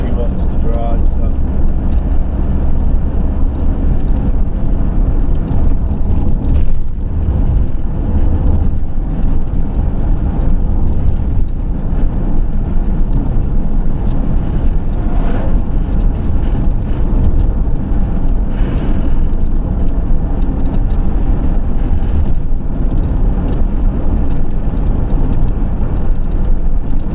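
A car driven along roads near the Turkish border, with a steady, loud engine and road rumble running throughout and voices talking over it.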